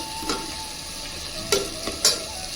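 Tomato masala with chili powder sizzles steadily in a pan, with a few sharp stirring scrapes and clinks over the constant frying hiss.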